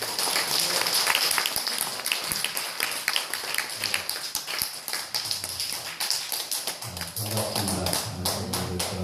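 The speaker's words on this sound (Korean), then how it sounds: "우리 박수로 맞이해주시기 바랍니다" A church congregation claps to welcome a guest speaker to the front, a steady patter of many hands with dense, overlapping taps that carry on throughout, and a low murmur and organ-like tones rising near the end.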